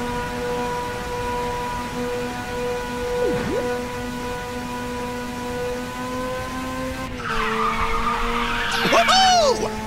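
Tires skidding as a car corners in Ridge Racer 6, a loud squeal rising near the end over a constant engine hum, with some talk mixed in.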